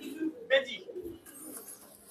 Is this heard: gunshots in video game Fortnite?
no